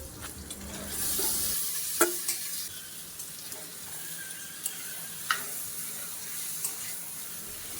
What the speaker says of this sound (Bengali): এবার আগে থেকে ম্যারিনেট করে রাখা মাংসগুলোকে দিয়ে আমি মাংসগুলোকে ভালো করে কষিয়ে নিচ্ছি।